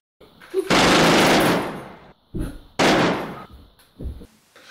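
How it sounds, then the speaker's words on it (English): Synthetic gunshot and explosion sound effects from editing plugins: two long roaring blasts and a short burst, each separated by brief gaps, loud and close. "explosions and gunshots"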